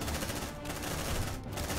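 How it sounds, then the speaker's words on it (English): A sentry gun fires in the video game Aliens: Dark Descent, a dense, loud stream of rapid automatic shots with no break for nearly two seconds. "Deploying sentry gun."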